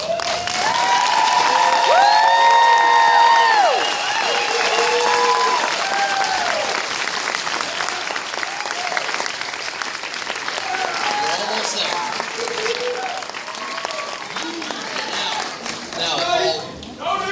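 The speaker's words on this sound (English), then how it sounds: "Your first applause." Sustained applause from a crowd at a drug court graduation ceremony as graduates stand, loud and steady throughout, with voices and cheering mixed in near the start.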